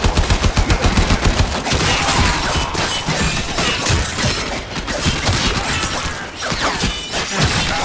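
Rapid, dense gunfire from the video game Warframe, loud and continuous with bursts of automatic fire, crashing impacts and a shattering explosion.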